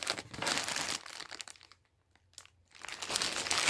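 A plastic bag holding paper flowers being handled up close, giving bursts of crinkling and crackling with a quiet pause in the middle.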